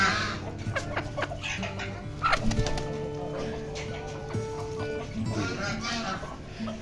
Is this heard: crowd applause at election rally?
no